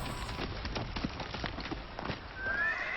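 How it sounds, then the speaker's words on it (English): Several horses gallop in close with a steady pounding clip-clop of hooves, and a neigh or whinny rises near the end, set as a sound effect in an audiobook reading. "horses appeared in the moonlight, galloping down the hill towards the inn"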